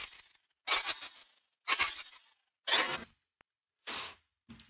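Game sound effect with delay repetitions boosted by OTT compression, four bright, crisp bursts of similar loudness repeating at roughly one-second intervals, ending with a short fainter blip, alone.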